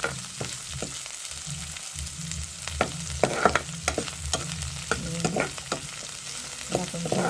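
Cut green chillies frying in hot oil in a pan for carrot pulihora, with steady crackling sizzle and intermittent stirring scrapes and clinks throughout, no talking.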